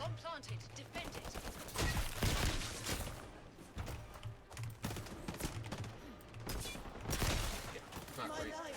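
Rapid bursts of gunfire in the Highguard shooter game, repeated volleys and single shots crackling through the mix at a fairly close, busy level.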